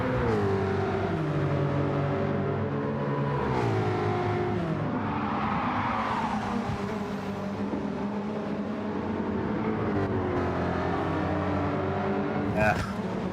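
Racing car in a Gran Turismo 7 replay holds a loud, continuous engine drone, pitch sliding down and climbing through shifts, with a louder rush in the middle and a voice speaking underneath.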